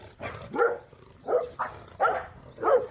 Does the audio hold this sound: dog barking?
yes